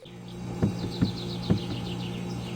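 Birds chirp faintly outside a house in the Roblox version of My Summer Car, a thin run of quick repeated tweets over a steady low hum, with a few soft clicks and no talk.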